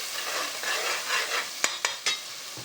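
Curry with freshly added coriander is stirred in a pan, a soft hiss of frying under a few close scraping strokes, ending in three distinct sharp clacks of a spoon against the pan.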